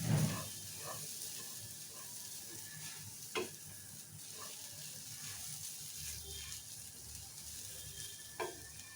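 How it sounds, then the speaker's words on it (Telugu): Grated carrot frying slowly on a low flame for a quick carrot sweet, with a soft steady sizzle and occasional light stirring scrapes in a quiet kitchen. "లో ఫ్లేమ్ మీద నిదానంగా క్యారెట్ని కూడా మంచిగా ఉడికే వరకు ఫ్రై చేసుకోవాలి"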